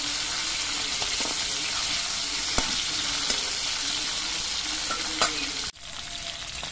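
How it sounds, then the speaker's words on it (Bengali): Fresh Ganges ritha fish frying in oil in a pan, a loud, steady close sizzle with occasional light clicks of handling, cutting off abruptly near the end. "মাছগুলোর এক কিছুক্ষণ ভাজা হওয়ার পর মাছগুলো উল্টে দিচ্ছি।"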